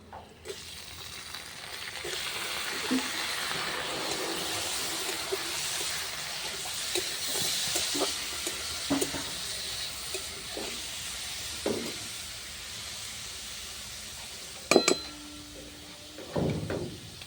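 Chicken pieces frying with onions in a pan, a steady hissing sizzle with intermittent stirring clatters and utensil knocks, a sharp clank near the end, no speech.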